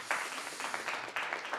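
Audience applause at a Korean radio scholarship quiz event, a brief burst of dense clapping from a small crowd, steady and moderately loud throughout.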